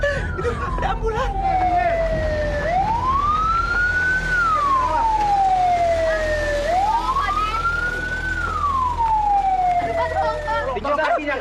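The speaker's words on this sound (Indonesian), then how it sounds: "Itu ada ambulan." An ambulance siren wails, sweeping slowly up and down in long cycles, loud and steady over a constant low traffic rumble.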